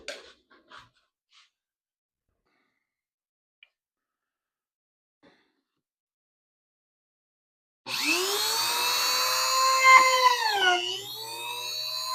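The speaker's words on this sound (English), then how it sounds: "We're fixing to sew this thing up. Well, we're fixing to drill holes in it first." After several seconds of near silence with faint taps, a power drill whines in, its pitch rising and dipping as it bites into a leather knife sheath, close and steady.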